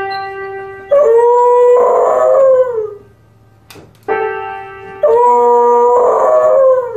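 A singing dog howls loudly and close in two long bouts, its tone sliding up and down, with a short break between them.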